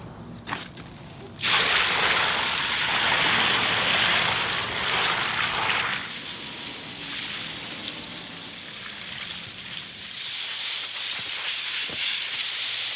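Water sprays steadily to rinse down a Porsche Recaro front seat part under restoration, a continuous close hiss that runs most of the way and brightens toward the end.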